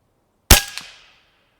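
One close, sharp crack as an AEA HP SS Max .357 air rifle fires a slug, followed by a brief metallic ring that fades within about half a second.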